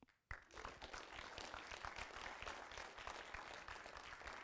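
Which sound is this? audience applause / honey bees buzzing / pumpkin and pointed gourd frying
audience applause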